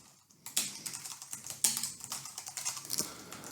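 Quick, uneven keystrokes clatter on a computer keyboard as code is typed, a close, fairly quiet burst of clicks with no voices.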